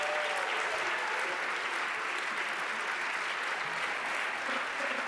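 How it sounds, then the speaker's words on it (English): Steady crowd applause at an award ceremony for a sustainable energy prize winner, dense, continuous clapping from a large audience heard alone at even volume throughout. "Applause."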